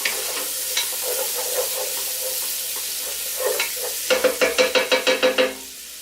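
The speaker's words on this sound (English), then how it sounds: "That's when you add in your onions. Put your onions in." Onions sizzle in a pot for New England clam chowder, a steady frying hiss under scattered stirring clatter, ending in a quick run of about ten rhythmic scrapes of a utensil against the pot.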